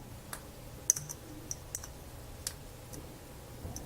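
Plastic tabs on a cheap dollar-store LED wristwatch case snap and click, several small sharp ticks scattered irregularly at close range over faint background hiss.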